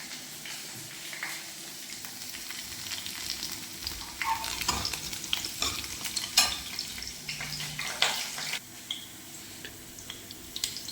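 Garlic frying in hot ghee in a home kitchen gives a steady crackling sizzle, with scattered pops and sharp stirring scrapes near the close, and no voices.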